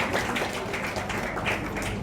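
Audience at a production company launch event applauding: dense, steady clapping from a crowd that fills the whole moment at moderate volume, with no voices standing out.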